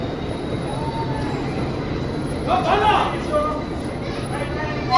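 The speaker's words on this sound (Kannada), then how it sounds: "4 ನಿಮಿಷ ಡಿಲೇ ಆಗಿ ನಮ್ಮ ಟ್ರೈನ್ ಹೊರಟಿದೆ ಉದಕಮಂಡಲಂ ಸ್ಟೇಷನಿಂದ" The Ooty toy train pulls out of Udhagamandalam station, a steady rumble of wheels and carriage noise with a brief metallic squeal midway, heard from inside the coach.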